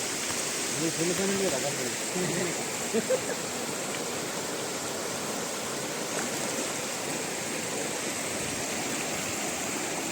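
Rushing floodwater after two days of rain, swollen over fields near a village bridge, forms a steady broadband roar like a stream or waterfall, with a voice talking briefly over it near the start.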